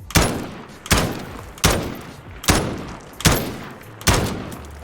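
Gunfire in Call of Duty: Modern Warfare during mouse-and-keyboard aim practice: six sharp single shots, evenly spaced and fairly close, each with a short decaying tail.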